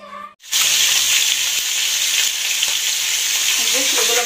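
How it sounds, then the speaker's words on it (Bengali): Fish fries in a pan with a loud, continuous close sizzle and hiss that starts abruptly after a short quiet moment and holds steady throughout, with no one speaking. "এগুলো মাছ ভাজি হয়ে গেছে,"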